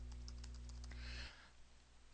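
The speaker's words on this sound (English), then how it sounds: "what I'm doing is typing in my password" A password being typed on a computer keyboard: a quick run of faint, close key clicks over a steady low hum, ending as the background drops quieter.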